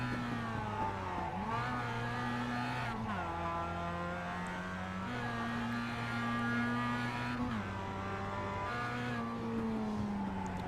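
Onboard engine note of a Mazda MX-5 race car at Oulton Park, revving high and steady with repeated drops in pitch on gear changes and braking, loud and continuous throughout.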